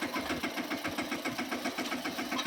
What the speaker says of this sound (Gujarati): આ ટ્રેક્ટર ચાર ચાર વ્હીલવાળું છે